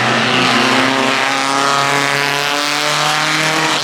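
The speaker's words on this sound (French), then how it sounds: "Vous allez voir des voitures de course anciennes passer" Vintage racing cars pass at the Goodwood Festival of Speed, a loud, close engine blaring and howling at high revs, its pitch sliding as the car sweeps by.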